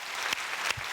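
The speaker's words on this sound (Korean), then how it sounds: "하나님께 큰 박수 합시다." Korean church congregation claps in praise to God during a sermon, a brief burst of dense, continuous applause heard from within the crowd.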